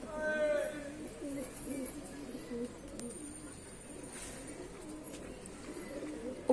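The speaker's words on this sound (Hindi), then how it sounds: "ऊपर भी कबूतर उड़ रहा" Pair pigeons coo in soft, repeated low calls close by, with faint background noise and a voice heard now and then.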